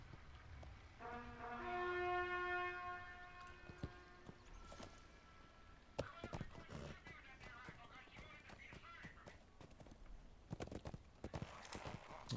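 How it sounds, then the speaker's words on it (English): Clip-clop of a horse's hooves, a war steed being ridden, comes in sharp irregular knocks through the second half, following a long tonal whinny-like call at the start. "There's one delicate war steed I am on, Zinger."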